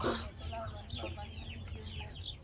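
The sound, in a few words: chickens clucking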